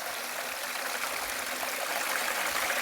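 Water sprays and rushes steadily from a wrap-around spray bar on a 6-inch Gold Rat highbanker, a soft, even hiss of flowing water with no voices.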